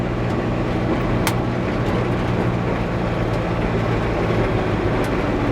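A Kubota RTV 1100C four-wheel-drive utility vehicle rolls along an old gravel and rocky dirt road, its engine a steady loud drone mixed with continuous tire crunch and a couple of brief knocks.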